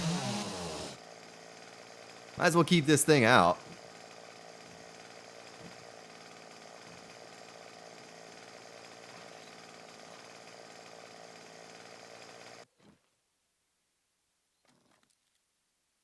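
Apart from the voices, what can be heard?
chainsaw running in video game 7 Days to Die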